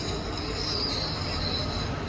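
Steady high-pitched squeal of tram wheels on rails during a theme park studio tour ride, sustained and loud over a rumbling ride, with no talking.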